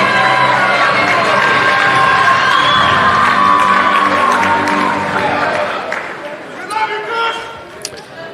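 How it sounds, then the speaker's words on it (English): Crowd applause and cheering ring out in a hall at a college athletics awards night honoring award recipients, loud and sustained for several seconds, then thinning out toward the end with scattered shouts. "Let's give all of our award recipients another round of applause."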